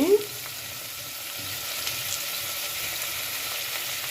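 Drumsticks and okra drop into a hot pan for a mixed vegetable curry, starting with a brief burst and then settling into a steady, close, even sizzle with no talk.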